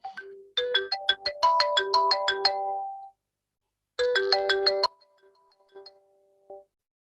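Phone ringtone playing a bright electronic chiming melody, loud and close, running for a few seconds, pausing briefly, then repeating a shorter burst before trailing off with faint tones; no talking.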